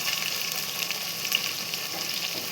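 Tomatoes go into onions frying in a pan, giving a steady close sizzle with a bright, even hiss and faint crackles, and no voices over it.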